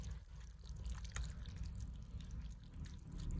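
Liquid draining from cooked taco meat in a pan, a steady close trickle and dripping with low background rumble.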